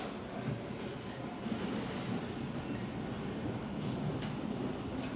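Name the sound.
box carried on assembly line conveyor to next station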